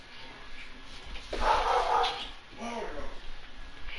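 A dog in Genshin Impact gives a few whimpering yips and barks close by, mixed with game sounds and a speaking voice.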